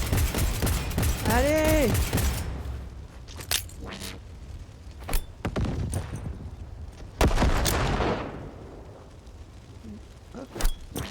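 Gunfire from shooting in Cyberpunk 2077 crackles in sharp bursts and scattered single shots, loud and close, with a voice calling out briefly over the opening volley.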